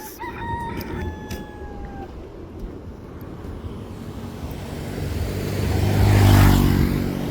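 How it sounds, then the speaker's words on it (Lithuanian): A rooster crows once near the start, a clear rising then held call at a moderate distance, followed by open outdoor ambience in Nauru with wind and a vehicle rumble swelling toward the end. "Gaidys."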